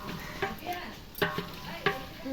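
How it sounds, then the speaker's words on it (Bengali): Meat frying in spices for biryani, stirred in a pot, with a steady sizzle under several sharp scrapes and clacks of the spoon against the pan, close by. "এখন ভালো করে নাড়াচাড়া দিতে হইব"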